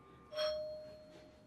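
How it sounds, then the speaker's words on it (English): A faint doorbell chime rings once from the front door, a single soft bright tone that lingers briefly over a low room hiss. "Someone's at the front door doorbell."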